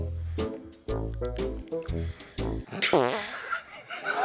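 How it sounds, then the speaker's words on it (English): Several low, buzzing fart-like bursts come in quick succession, each short and fairly loud, followed by chuckling laughter. "Don't start farting now."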